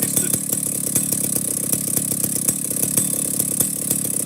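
A Stihl 050 chainsaw with an old-school muffler idles close by, a loud, steady, even engine putter with a regular firing rhythm and no voices.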